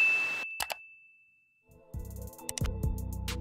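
Bright notification bell ding followed by a second quick chime, then a short burst of clanging, tinkling sound-effect hits, loud and isolated with no voices.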